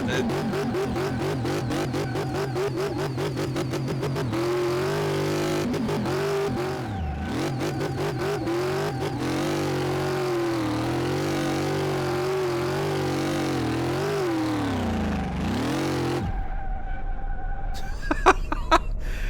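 A supercharged Chevy Corvette C4 engine in Car Mechanic Simulator 2018 revs and drones loudly with rising and falling pitch, shifting through gears, then cuts to a quieter idle with a few clicks at the end.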